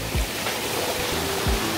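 Waterfall in a cold, clean mountain valley, a steady broadband rush of falling water filling the whole clip, with a few low thumps rising briefly above the roar.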